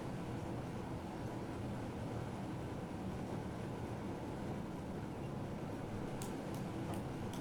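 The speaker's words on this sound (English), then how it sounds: "So the train we're travelling today is the Odesloe, the double stock. These are push-pull rail vehicles, 2 stories tall." Double-deck push-pull train in Train Simulator 2021 rolls along on the Lübeck–Bad Oldesloe line, giving a steady broadband rumble with a few faint clicks near the end and no voices.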